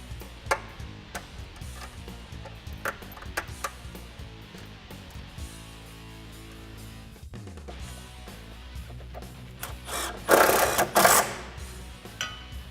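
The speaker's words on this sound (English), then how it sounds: "We're going to tighten this down with our 13 swivel socket." A ratchet with a 13 mm swivel socket tightens an exhaust hanger bracket on a 2009-2014 Dodge Challenger 5.7L HEMI, with rapid rhythmic clicking in bursts, a pause, then a louder rattling burst near the end.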